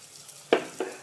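A spoonful of fennel seeds drops into hot oil in a pan for a green gram curry, giving two short, sharp sizzling bursts close by.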